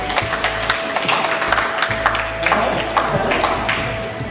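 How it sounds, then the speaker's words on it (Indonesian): Audience applause at a beginners' entrepreneurship workshop, a dense patter of claps filling the room with a steady hum underneath, fairly close and sustained without pause. "tepuk tangan buat Anda"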